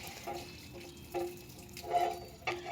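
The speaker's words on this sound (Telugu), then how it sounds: "ఇక్కడ నీళ్ళు పడుతున్నా కూడా అలాగే రుద్దేశాను." Tap water runs into a sink while a dosa pan is scrubbed clean, a steady close splashing with louder bursts of scrubbing and water hitting the pan's surface.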